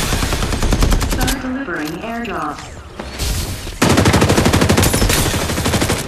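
Rapid machine gun bursts in the Farlight 84 battle royale game, loud dense fire that breaks off briefly for a voice line, then resumes in a sustained volley.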